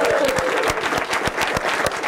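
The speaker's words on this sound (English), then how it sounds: "The applause at the control center in Colorado was echoed at the University of Arizona" Applause fills a mission control center in Colorado as a spacecraft reaches an asteroid, a dense, steady roar of many hands clapping with a few cheers mixed in.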